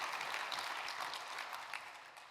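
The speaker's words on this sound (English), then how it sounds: "you can clap again for yourselves." A climate-meeting audience clapping for themselves, a faint, steady wash of applause from a crowd, distant and continuous with no voices on top.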